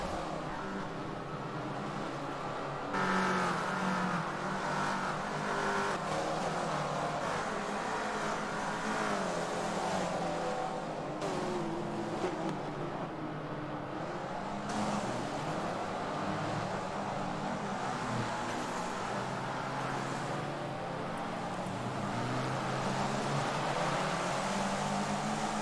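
Race car engines in a Forza racing game, a continuous drone of several cars with rising and falling revs and occasional gear shifts, steady and moderately loud throughout.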